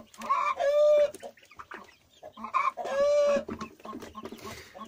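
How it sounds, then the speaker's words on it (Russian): Chicks peck at carrots for the first time, making bright clucks and chirps that come in two close, lively clusters separated by quieter pecking and shuffling. "Цыплята кушают вкуснятину после вкусностей."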